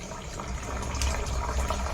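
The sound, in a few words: water pouring into bottle of phenyl concentrate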